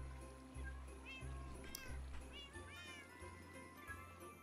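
A video game cat meows several times in quick succession, clear rising and falling calls over a repeating low musical background, with no talk.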